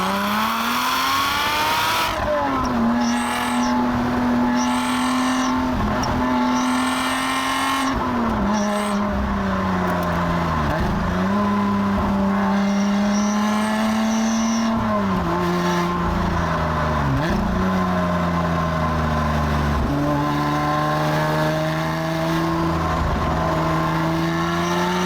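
A Lotus sports car driven hard along a winding road, its engine note loud and continuous, rising and falling with repeated shifts and throttle changes as it accelerates out of bends, with faint tire noise.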